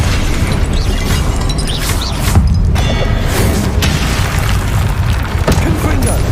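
Repeated spell-casting blasts in Hogwarts Legacy combat, a dense run of booming bursts and crackling impacts that stay loud throughout, with a voice calling out over them.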